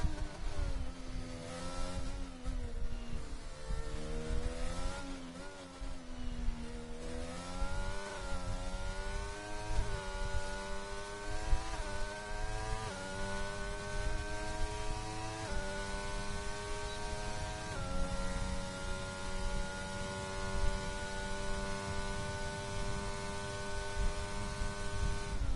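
Ferrari race car engine on a track, a steady whining drone with rising and shifting pitch as it accelerates through the gears, continuous and moderately distant.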